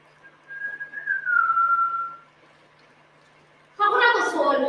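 A person whistles a sustained, gliding tune while twirling a dishcloth; after a short pause, voices begin speaking loudly close by.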